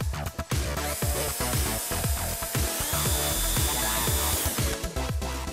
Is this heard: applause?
no